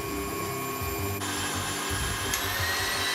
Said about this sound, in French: dans le batteur, hop, on commence doucement